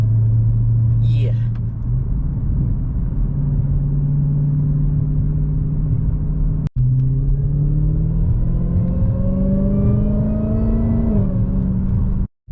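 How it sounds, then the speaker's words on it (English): A car with a modified exhaust idles with a deep, loud rumble, then revs up with a rising whine toward the end, heard close and with no talking. "stock exhaust and got the whine super crazy"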